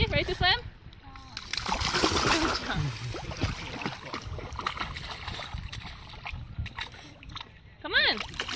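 A dog splashes and sloshes in water, loud bursts then lighter churning, with people talking over it.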